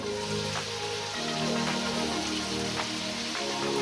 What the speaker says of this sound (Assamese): হাই ৰাইচ অকল ব্ৰইলাৰ চিকেনো মই ফ্ৰাই কৰিব দিছোঁ